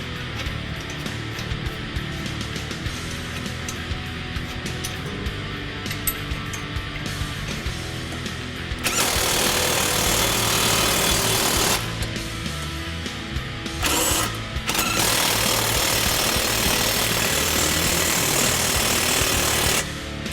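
A power tool tightens nuts during a Ford Performance lowering spring install on a 2015-2022 Mustang. A steady mechanical drone gives way to loud, harsh rattling bursts near the end, one after another and close by, with no voices.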